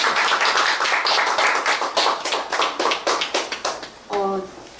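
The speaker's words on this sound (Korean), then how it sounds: "박수 한번 주세요" An audience at a literature hall poetry event claps in dense, sustained applause that gradually thins into scattered claps, then a brief tonal sound cuts in at the end.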